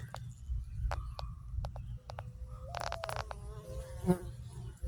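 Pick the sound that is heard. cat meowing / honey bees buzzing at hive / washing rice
honey bees buzzing at hive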